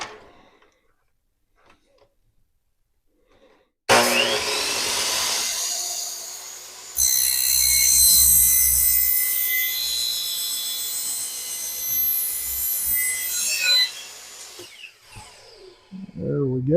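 A power saw cuts the tip off a garbage disposal drain pipe. After a few quiet seconds, a loud, steady high-pitched whine starts abruptly, deepens partway through as the blade bites into the pipe, and stops near the end.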